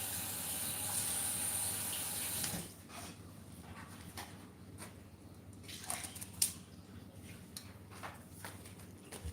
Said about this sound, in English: Let me just wash my scallion.